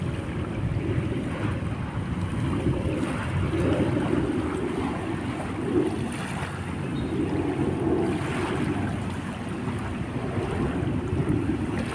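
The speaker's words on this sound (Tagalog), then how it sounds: "Yung lagaslas ng tubig na ating naririnig." Steady washing of Manila Bay water against the shore at Dolomite Beach, with gentle rolling surges, mixed with a breezy hiss and no voices.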